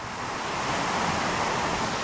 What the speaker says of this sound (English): Because I am close to Runchet Khola Jarana or Runchet River Waterfall.